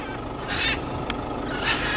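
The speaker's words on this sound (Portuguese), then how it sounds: "um bando de arara canindé" Flock of blue-and-yellow macaws calling outdoors: two raspy, moderately distant squawks about a second apart over a steady background hiss, with no talking.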